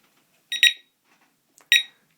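A Visonic Complete intruder alarm keypad beeps during quick arming: a quick double chirp, then a pause and one more sharp, bright beep, close and clean against a quiet room.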